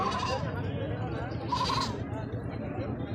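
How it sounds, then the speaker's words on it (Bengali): Goats bleat a couple of times over a steady, busy background of voices and crowd murmur at a farm goat sale. "এদিকে দেখুন একটি ছাগল, অনেক সুন্দর সুন্দর ছাগল এদিকে আসছে"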